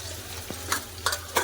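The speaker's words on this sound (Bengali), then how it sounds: "ভালো করে একটু লাল করে ভেজে নেবো আলু" Potatoes frying in a pan with salt and turmeric, a low steady sizzle broken by a few bright scraping stirs, fairly close.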